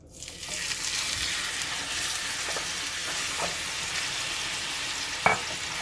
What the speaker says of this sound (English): It's already hot, so I'm going to go ahead and just get this meat directly in the pan